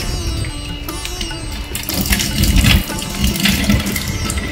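Running water splashes steadily into a pot, with clattering and scrubbing as it is washed; continuous and close, no voices.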